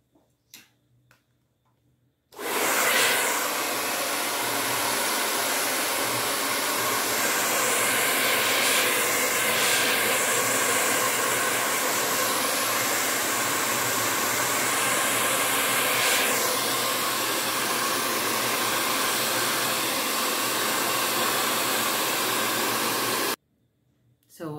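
Hair dryer blowing on hair, a loud, steady continuous whoosh that switches on after a brief quiet start, runs for about twenty seconds with slight shifts in tone, then cuts off.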